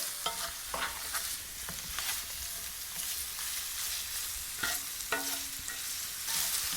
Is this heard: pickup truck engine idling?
no